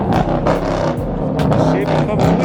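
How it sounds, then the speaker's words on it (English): A Chevrolet Camaro Z28 with roll bars and a red stripe rumbles past at a Mustang meet and car show, a steady, loud engine drone amid crowd chatter and voices. "Chevy coming with it. Camaro Z28, y'all."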